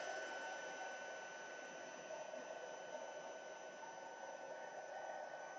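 A heat tool blows steadily to melt a delicate sprinkling of embossing powder dots on textured floral papercraft, a constant, fairly quiet whooshing hum running unbroken throughout with no talking.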